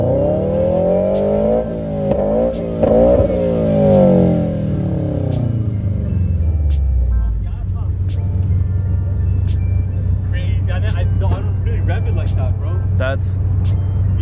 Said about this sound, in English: That's the ARC performance with the unequal length.